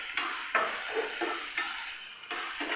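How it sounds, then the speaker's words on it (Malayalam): Ingredients sauté in a pan with a continuous sizzle, broken every half second or so by sharp scrapes and knocks of a stirring utensil, close and moderately loud. "അതുവരെ നമ്മളൊന്ന് വഴറ്റിയെടുക്കും"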